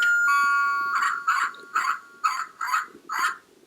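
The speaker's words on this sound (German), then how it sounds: "da bellt sogar das Hündchen" A toy dog bark from a Lego City house set: a short electronic jingle, then six evenly spaced synthetic barks, close and moderately loud with quiet gaps between.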